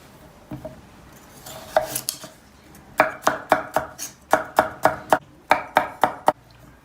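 Rapid knife chopping of onions on a cutting board, a few scattered cuts first, then a steady run of sharp, evenly spaced chops close by.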